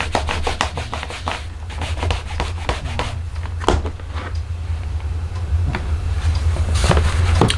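A rubber stamp scrubbed back and forth on a scrub pad, a close, steady rasping rub with quick repeated strokes over a constant low background hum.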